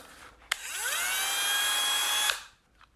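Cordless 12 volt Dremel rotary tool with the motor spinning up after a click, holding a steady high whine for about two seconds, then shutting off abruptly; close and alone.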